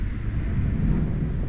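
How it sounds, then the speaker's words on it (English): Strong wind at Ohiya in the Sri Lankan hills buffets the microphone in a steady low roar, loud and continuous with no voices. "So we are waiting for the wind to subside so that we can go for our walk."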